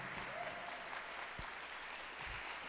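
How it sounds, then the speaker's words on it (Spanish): A church congregation claps steadily for the mothers at a service the day before Mother's Day, a soft, even wash of applause heard at some distance. "Denle un aplauso a Dios por las mamás."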